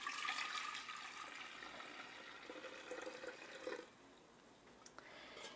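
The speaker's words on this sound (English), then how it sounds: "you'll pour your cooled tea into the fermenting jar" Cooled tea poured into a fermenting jar, a steady splashing stream of liquid that thins and stops near the end, followed by a few small drips and clinks.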